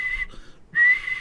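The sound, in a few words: person imitating whistling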